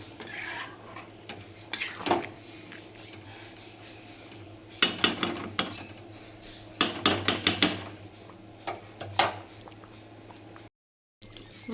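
Metal pot of meat being handled and covered with a lid, scattered sharp clinks and clatters of metal cookware in short bursts, close by with quiet stretches between.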